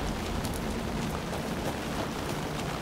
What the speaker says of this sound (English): the rain really follows us wherever we go, huh?